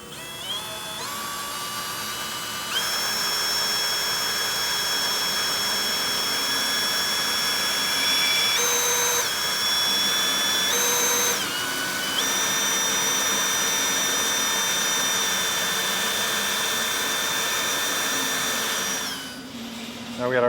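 Small pilot bit drilling into a clamped mounting point while fitting a Blue Ox base plate kit to a 2017 Honda Fit; a steady, close power-drill whine runs for most of the stretch, shifting pitch a few times before stopping.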